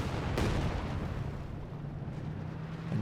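Artillery fire on a World War II battlefield in Company of Heroes 2, a heavy boom near the start followed by a continuous low rumbling battle din, with another thump near the end.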